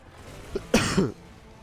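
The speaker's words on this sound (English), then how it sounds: "I hate it when you have to cough, even if it's a small cough" A single small cough, short and fairly close, with a slight throaty rasp.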